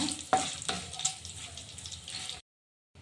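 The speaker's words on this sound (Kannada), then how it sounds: "ಸ್ವಲ್ಪ ಫ್ರೈ ಆಗಲಿ ಒಣಮೆಣ್ಸಿನ್ಕಾಯಿ ಕರಿಬೇವು ಎಲ್ಲ" Dry red chillies and curry leaves frying in hot oil for puliyogare, a close steady sizzle and crackle with a brief stir near the start, ending abruptly in silence.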